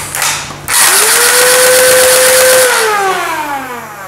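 A QBZ-95 style toy dart blaster fires a rapid burst, heard as a loud, continuous mechanical ratcheting whir with a rising then steady tone that winds down at the end.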